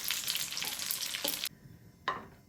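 Bread and semiya snack frying in hot oil, a steady close sizzle with stirring, then a brief hush before a fresh burst of sizzling as a piece is flipped.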